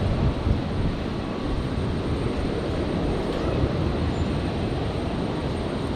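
An Alliance Fokker 70 passes over a hangar at Brisbane Airport with a continuous, heavy rumbling engine roar. The sound holds level and loud from start to finish.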